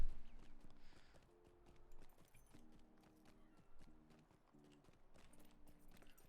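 Hobby horse hooves clip-clop in The Lord of the Rings Online, a steady, moderately loud walking rhythm of repeated hoofbeats with game music tones in the background.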